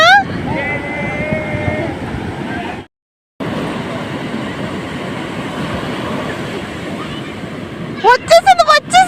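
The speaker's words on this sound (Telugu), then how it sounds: "నీళ్ళు కెరటాలు, సముద్రం ఇదంతా కూడాను ఎలా తన్నుకుని వస్తుందో" Sea waves at a beach near Konark, a continuous loud rushing surf with heavy wind buffeting the microphone, a brief dropout midway, and sharp chirpy sounds at the end.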